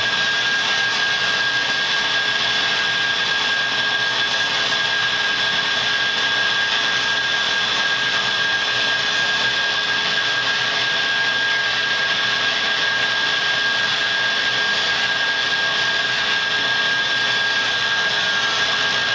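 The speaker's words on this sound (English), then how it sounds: "I'm going to probably grab a shop vac and try to suck all this out of here." A shop vac runs steadily, sucking metal shavings out of the throttle body on a 4.0 Jeep Wrangler/Cherokee, giving a loud, unbroken whoosh and whine with a constant high tone and no talking throughout.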